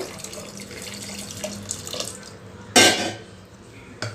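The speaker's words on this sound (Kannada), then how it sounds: "ನಾವು ಬಸ್ತಿರೋ ಅಂಥ ನೀರು ಕೂಡ ಇದಕ್ಕೆ ಸೇರಿಸ್ಕೋಬೇಕು" Water splashes and pours into a pot in a brief loud burst, following softer kitchen clatter and running water; the water is being added to smashed lentils while making palak pappu.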